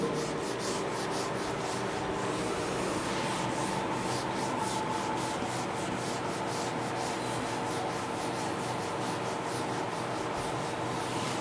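Classroom board being rubbed clean, a continuous dense scrubbing and brushing sound that stays close and even in loudness throughout, with no voices.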